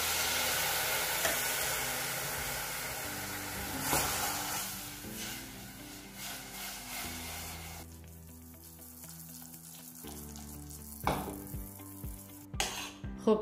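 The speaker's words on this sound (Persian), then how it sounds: "2-3 قاشق آب رو بهش اضافه میکنم." Water hits hot caramelized sugar in a pot over very high heat, setting off a loud, steady sizzle that fades gradually into quieter bubbling, with a few clinks of utensils near the end over soft background music.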